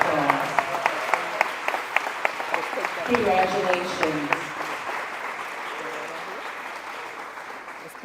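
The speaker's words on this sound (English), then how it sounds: "a round of applause." An audience at a 2023 awards ceremony applauds with steady, dense clapping that gradually softens, while a voice speaks briefly over it.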